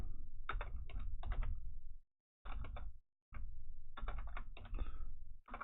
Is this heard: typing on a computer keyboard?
yes